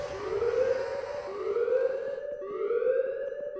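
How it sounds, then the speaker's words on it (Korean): A loud wailing alarm in the Apeirophobia horror video game repeats as three rising siren sweeps in steady cycles, sounding alone with no talk. "이건 알람 안 끄면 안 되나? 그냥 시끄러운 거 아닌가?"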